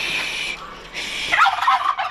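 Turkeys on a farm kept among a flock of pheasants gobble in short bursts, answering a person whistling an imitation of a hen turkey's call; the gobbles are loud, close and rippling, following a steady whistled tone.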